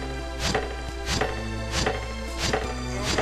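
Chopping from the video game Mystic Quest, five evenly spaced sharp thwacks about every 0.65 seconds over a steady game background hum, each hit clear and distinct.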